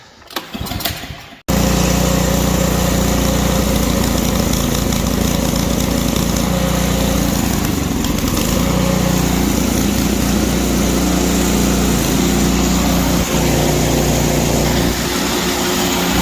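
A small snow blower engine runs steadily at close range after a brief rough start, its loud continuous drone holding for about fifteen seconds with no talk over it.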